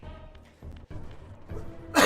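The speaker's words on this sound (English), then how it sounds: "Try not to cough too loud in the mic" A single loud, close cough bursts into the microphone near the end, following a stretch of quiet background sound from the Legacy of Kain: Soul Reaver remaster being played.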